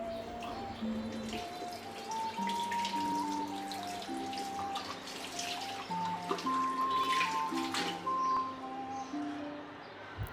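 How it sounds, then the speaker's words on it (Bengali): Stones being gently washed with a thin cloth in water, a soft trickling and dripping heard faintly beneath a steady tonal background. "পাথরগুলি আমি একটা পাতলা কাপড় দিয়ে খুব আলতো করে ধুয়ে নেব।"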